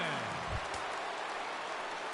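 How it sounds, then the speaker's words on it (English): Steady rain falls across a ballpark in the baseball video game MLB The Show 16, a constant even hiss with no pauses, fairly soft. "the rain continues to fall here"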